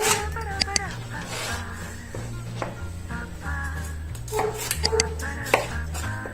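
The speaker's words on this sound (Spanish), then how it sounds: "Vamos a cortar el pimiento en cuadraditos, ni muy chicos ni muy grandes." Knife chopping red and green bell pepper into small squares on a cutting board for a beef stew, a steady run of crisp taps under continuous background music.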